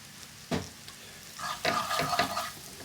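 Green chilies are tipped into a chickpea and spinach curry frying in a pan, giving a soft thump, then a rising sizzle with stirring scrapes, fairly quiet and close, no talking.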